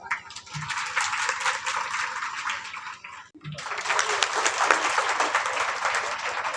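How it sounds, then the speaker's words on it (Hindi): Loud, sustained applause from an audience welcoming guests at a Hindi literary seminar and poetry event, dense clapping continuing through with a brief dip midway before rising again. "जोरदार तालियों से स्वागत करिए"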